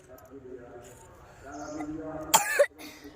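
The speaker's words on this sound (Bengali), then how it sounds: "খুব কাশি হয়েছে দেখছি তোমার" A person who is ill coughs in a short, harsh burst of two or three hacks near the end, close to the microphone, after a stretch of quiet talking at home.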